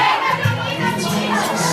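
A crowd of young voices shouts and cheers loudly and continuously at close range, an excited audience at a live acoustic guitar performance, with no instrument audible through the din.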